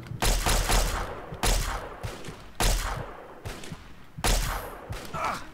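Fallout 3 gunfire at Dupont Circle comes in about five heavy bursts of rapid shots, spaced roughly a second apart, each cracking loudly and then trailing off into rumbling echoes, with no talking.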